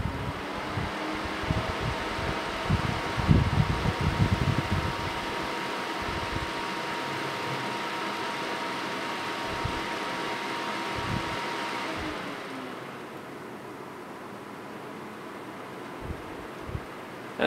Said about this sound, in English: you can actually hear what the fans sound like when they first spin up